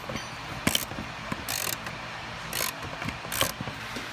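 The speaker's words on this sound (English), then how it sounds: "We're gonna line up on the V-band and loosen." A ratchet on a swivel extension loosens the V-band clamp on a 2015-or-later BMW F8X M3/M4 downpipe, giving four quick bursts of close metallic clicking spaced about a second apart, with quiet mechanical handling in between.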